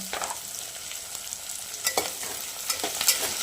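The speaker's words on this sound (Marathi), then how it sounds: "मस्त तेलात परतून घ्यायचं आपण भाज्या सगळ्या" Mixed vegetables being sautéed in oil for pulao, a soft steady sizzle with scraping stir strokes from a spoon against the pan, several sharper scrapes near the end, no talk.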